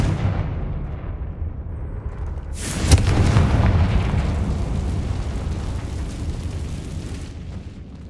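A Confringo fire spell from Hogwarts Legacy bursts in a decayed catacomb, one sharp boom followed by a rumbling roar that lingers for several seconds before fading.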